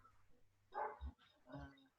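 Dog barking in the background of a home online class, two or three faint, muffled barks spaced about half a second apart at low level.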